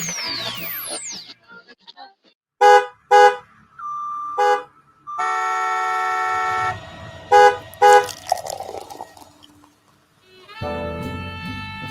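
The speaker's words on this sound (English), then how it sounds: "The construction and traffic noises you hear this week?" Street traffic carries several loud car horn blasts, some short toots and one long sustained honk, between quieter stretches of passing-car noise, with one more horn near the end.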